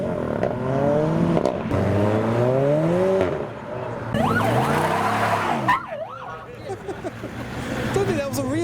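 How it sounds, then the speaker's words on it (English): A police siren wails in rising and falling sweeps, loud and close, over traffic noise at a car meet as a vehicle passes. "Police car."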